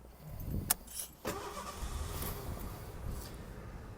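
A 1986 Ford Mustang LX with a 3.8 liter Essex V6 cranks and catches, and a short starter burst gives way to a steady, fairly loud idle that runs on alone.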